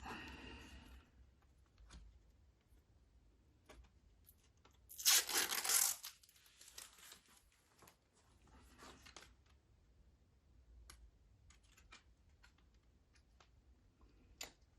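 Protective paper film being peeled off a face-shield visor, a loud tearing rip of about a second standing out from a quiet room, followed by scattered faint clicks and small handling taps.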